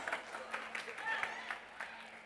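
A crowd at a Telugu film pre-release function for Pantham claps in soft, scattered applause, heard faintly at some distance and partly covered by a voice talking over it.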